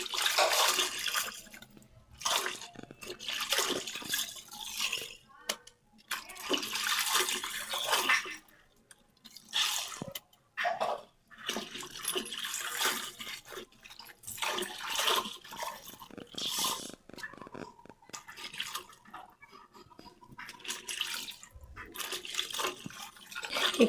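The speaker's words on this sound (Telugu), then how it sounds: "ఇప్పుడైతే బట్టలు అయితే జాడించేస్తున్నాను." Clothes are rinsed by hand in a tub of water, producing close, irregular bursts of sloshing and splashing with brief pauses between the wringing motions.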